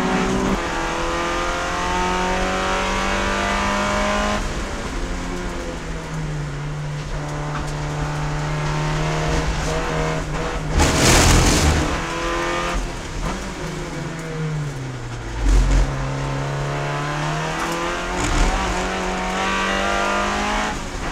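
SCCA Runoffs race cars, among them an Audi, roar past on track with engines revving and shifting through gears, pitch climbing and falling as cars pass close, with brief tire squeal and no talk.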